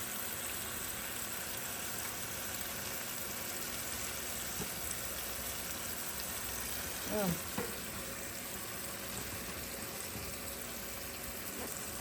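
Onions frying in a pan give a steady, dense sizzle throughout, close and even, with a brief stir or shift midway and no talking.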